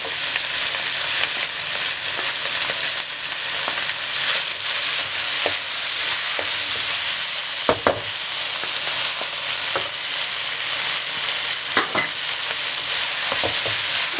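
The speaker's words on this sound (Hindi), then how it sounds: "अब आपने दरमियानी आंच पे इसको कुछ देर तक फ्राई कर लें कि टमाटर मुकम्मल तौर पे गल जाए।" Chopped tomatoes and green chillies frying in a pan over medium heat, a steady loud sizzle with occasional clicks of a spoon stirring, no voices.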